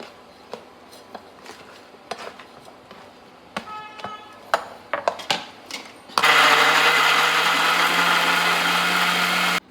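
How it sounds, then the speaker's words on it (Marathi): Kitchen mixer grinder pureeing chopped tomatoes: after a run of scattered clicks and taps, the motor starts abruptly and runs loud and steady with a constant whine through to the end. "टोमॅटो सगळे कट झालेत. आता ते मिक्सरला लावून घेते."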